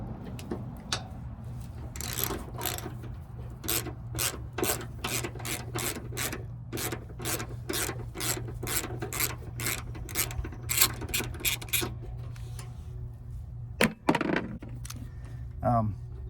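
A ratchet wrench turns a bolt on a Honda Element fender, producing a steady series of crisp, close ratcheting clicks over a low hum, ending with a single sharp clank.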